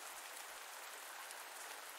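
Rain falls in a farming video game, Pumpkin Days, as a soft, even, far-off hiss. It stays faint and steady throughout, with no voices.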